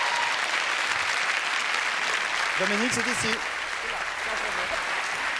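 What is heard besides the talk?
studio audience applause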